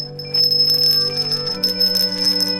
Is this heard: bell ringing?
yes